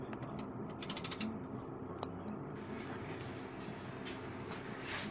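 Mechanical ratcheting clicks from a torque wrench, set to 90, working on a Chrysler 4.7 engine during a timing chain job, heard close as a run of quick ticks over a steady shop background.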